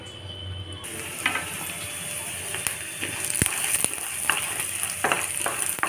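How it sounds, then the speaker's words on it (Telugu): Chana dal, dried red chillies, coriander seeds and cumin frying in a pan, with continuous close sizzling and crackling, broken by several sharp clicks and scrapes of stirring. "దీంట్లో పచ్చని పప్పు, ఎండుమిర్చి, ధనియాలు, జీలకర్ర వేసి వేయించుకుంటున్నాను"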